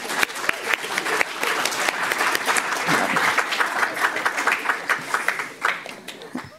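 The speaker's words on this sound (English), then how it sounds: "we can still give this project an applause" Audience applause at an awards ceremony, a steady patter of many hands clapping at moderate volume for several seconds, with no speech over it.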